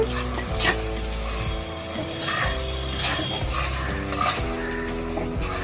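Tomatoes and brinjal sautéing in a pan for spicy village-style fish curry, a steady close sizzle with repeated scraping stirs and light clinks of a utensil against the pan, continuous throughout with no talking.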